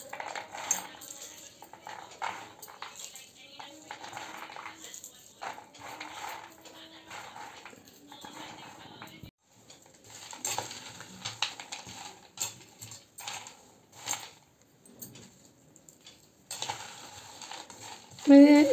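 Roasted peanuts rubbed between the hands to strip their skins, giving soft, irregular rustling and dry clicking bursts that come and go, with quieter gaps between.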